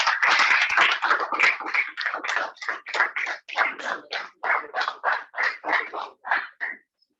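An audience at a Rotaract club installation ceremony applauds in a burst of clapping that carries on in rhythmic waves for several seconds, then stops.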